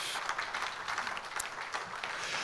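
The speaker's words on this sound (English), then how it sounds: "please, a round of applause for our sponsors." Brief, faint applause from an audience at a business awards evening, an even patter of many hands clapping.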